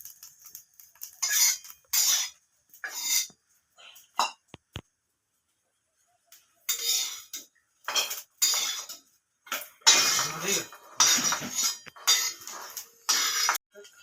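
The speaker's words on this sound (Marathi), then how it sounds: "आता काढून ह्याला खलबत्त्यात जरा चेचून घ्यायचं." Roasted pavta beans crushed in a stone mortar and pestle, sharp bursts of grinding and knocking in irregular clusters with short pauses, close and fairly quiet.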